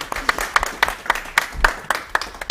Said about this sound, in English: So please give them a great hand of applause.